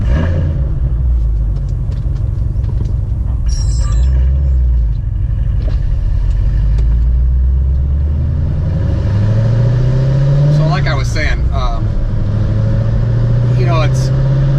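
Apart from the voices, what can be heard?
C7 Corvette Stingray 800 hp driving and accelerating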